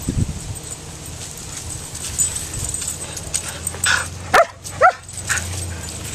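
A dog gives a couple of sharp yips and barks toward the end, preceded by quieter whimpering over outdoor background noise at a campsite.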